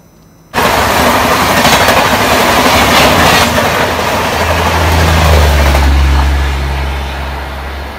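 A train rolls past a railway crossing in India, a loud continuous rumble of wheels and carriages starting abruptly and holding steady, with a deep low engine drone building near the end.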